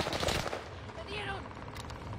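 Rapid gunfire rattles in a shooting video game, a short burst of machine-gun-style shots at moderate level under a mix of game sounds, with a voice talking over it.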